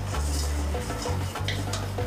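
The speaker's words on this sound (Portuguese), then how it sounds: "Vou aproveitar que ele está fritando o arroz e vou colocar ele agora." Rice fries in a pan and gets stirred, giving a continuous loud sizzle with scraping and clinking of the utensil against the pan, close up and with no talking.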